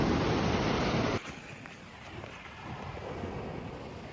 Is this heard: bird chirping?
no